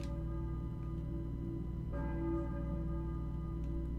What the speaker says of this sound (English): church bell, maybe. Who is ringing the bell?